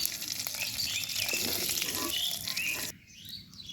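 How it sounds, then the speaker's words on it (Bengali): Noodles frying in leftover chicken-frying oil give a loud, steady crackling sizzle that cuts off sharply near the end, leaving faint kitchen sounds. "এই গোস্ত ভাজার তেলের মধ্যেই আমি নুডলসটা রান্না করব"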